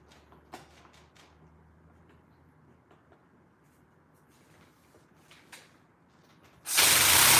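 A ratchet tightens a bolt on a Stihl HT 103 pole saw during a shaft replacement. Sparse, faint clicks sound close over a quiet background, then a sudden loud broadband burst cuts in at the end.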